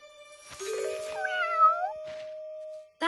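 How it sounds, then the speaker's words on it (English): A cat in the bushes at a cartoon campsite gives a clear, close meow with a rising and falling pitch, followed by a short second call in an otherwise quiet scene. "That's a cat."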